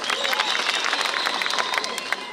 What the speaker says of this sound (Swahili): Jipigeni makofi kwanza.